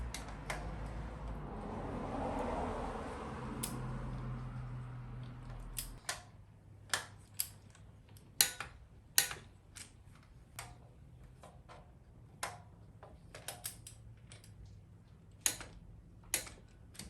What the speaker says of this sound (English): Got my torque wrench set to 32 foot-pounds.